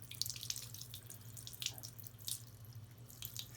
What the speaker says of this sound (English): I'm going to let my water just run a little bit here